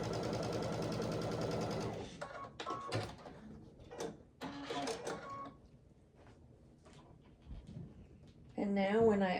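A sewing machine stitching a fabric strip for a scrappy string quilt, a steady mechanical whir for about two seconds, then scattered clicks and handling noises, with someone speaking at moments.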